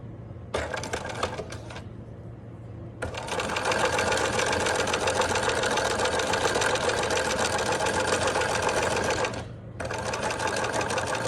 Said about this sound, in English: So I'm gonna sew these two ends together